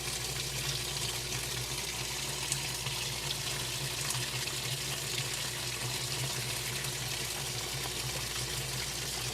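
Water rushes steadily into the tub of a 1994 Whirlpool Direct Drive small-load washer during its fill, a constant close hiss with a low hum beneath and no talking.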